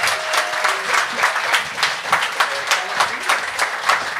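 Studio audience applauding a contestant on a televised amateur talent show, a steady dense patter of clapping close by with a voice speaking over it.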